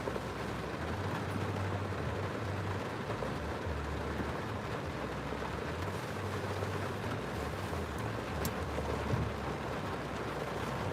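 Heavy nighttime rain pours steadily on a street in Allentown/Bethlehem/Easton, Pennsylvania, with low rumbling thunder rolling underneath throughout; a dense, continuous wash of sound with no speech.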